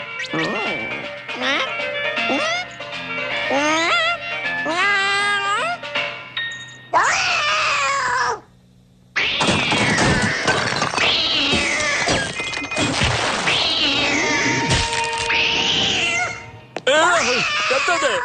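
A cartoon cat meows repeatedly and insistently, the drawn-out cries rising and falling, with a person talking over and between them.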